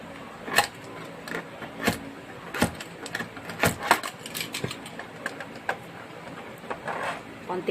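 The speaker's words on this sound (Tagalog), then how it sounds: "I'm gonna use cutter first." A sharp utility knife cutter slices through a potted plant's stems, giving a series of crisp, irregular snaps and clicks close by, spaced unevenly over a soft background hiss.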